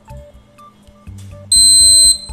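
An industrial machine's fault-detection alarm sounds a loud steady electronic beep of about half a second after quieter mechanical hum, signalling an oil leak that needs a machine check.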